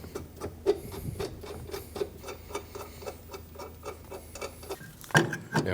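Strut bolts are threaded in by hand on a Ford Edge front suspension, giving quiet, quick, regular ticking clicks with light rubbing, ending in a couple of louder metallic knocks.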